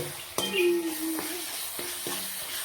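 Roasted-eggplant ringan no olo mixed in a hot pan: a constant sizzle under a few hard utensil knocks against the pan, with a brief scraping stir between them.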